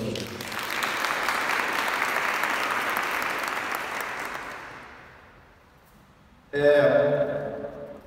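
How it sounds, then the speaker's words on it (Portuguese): A church congregation applauding during a sermon, a dense, even wash of clapping that fades out over several seconds before a voice comes in loudly near the end. "Pode aplaudir, Deus."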